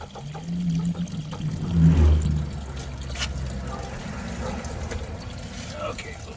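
Gasoline from a 1974 VW Baja fuel tank pours from a drain pan into a container, a close sloshing stream with a louder gush near the start that settles into a steady trickle amid faint clanking.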